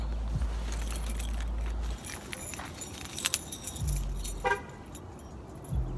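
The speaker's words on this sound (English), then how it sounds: "Let me find my keys real quick." Car keys jangle and clink near the microphone in a few bursts while someone searches for them inside a car, with low engine rumble or road noise underneath and no speech.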